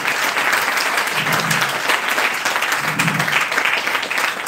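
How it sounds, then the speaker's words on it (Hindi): Loud, continuous applause from a large crowd at a speech meeting, dense and steady clapping filling the room for several seconds. "ताली जोरदार होनी चाहिए"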